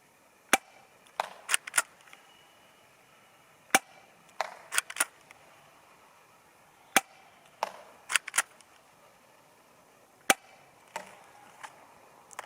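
CZ75 SP-01 Shadow airsoft pistol fired at a target 25 metres away, with a dozen or so sharp, dry cracks and snaps arriving at irregular intervals against a quiet background.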